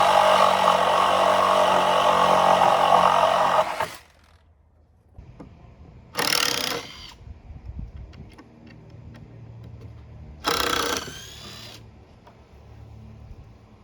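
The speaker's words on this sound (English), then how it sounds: "the top of the screw head stripped off, and so we'll just use the Sawzall to cut that off" A Sawzall reciprocating saw cuts off a stripped screw head on a hillside stair build: a loud, harsh buzzing burst of several seconds, followed by two short, sharp bursts separated by quieter gaps.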